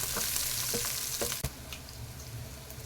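Sliced onion sautés in a hot pan for a bitter gourd fry, giving a steady close sizzle with a few sharp scrapes and stirs and no voices.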